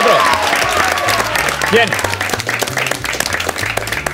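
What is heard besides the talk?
audience applause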